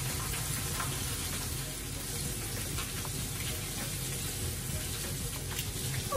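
Halibut fillet sears in a hot pan with a steady, dense sizzle and crackle that runs unbroken from start to finish, close and even in loudness.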